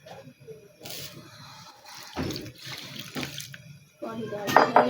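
Water is poured into flour for dough, giving a close, splashing trickle that starts and stops in short bursts, with faint background voices.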